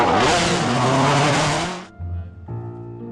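A rally car at full throttle on a timed stage of the 2012 Lyon-Charbonnières-Rhône rally: a loud, close engine roar lasts about two seconds, then cuts off abruptly, leaving a quieter tonal hum.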